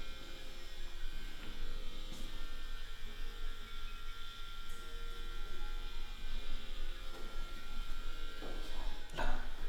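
A plugged-in tattoo machine runs with a continuous close electric buzz and hum, steady throughout, with a light clack near the end and no speech.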